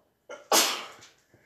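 A person sneezes once, loud and close, with a short inhaled build-up followed by a sharp burst that fades quickly, then a brief small sound after.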